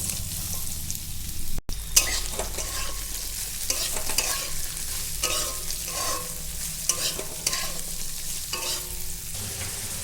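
Ridge gourd and potato pieces fry in hot oil with nigella seeds, giving a constant close sizzle broken by repeated scraping stirs of a spatula and one sharp knock against the pan, with no talking.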